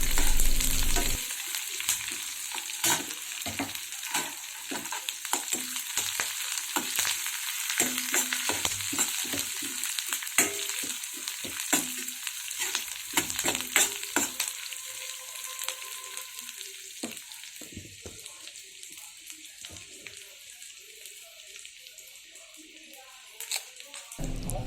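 Onions with chana dal are sautéed in a pan, half-cooked, for a rice-flour evening snack. A close sizzle runs under repeated quick scrapes and taps of the spatula, then eases to a quieter fry near the end.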